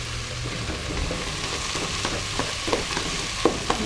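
Rice frying in a pan for red rice with poblano chile while softened tomato cubes are mashed and stirred in: a steady, loud sizzle throughout, with a few crisp spoon scrapes toward the end.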